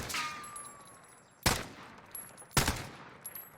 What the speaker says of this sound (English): here's the hyper burst again